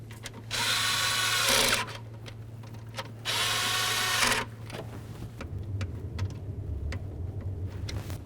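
A power tool drives the screws of a PCV tube on a Ford Expedition, giving two short, fairly loud whirring bursts, followed by quieter workshop background.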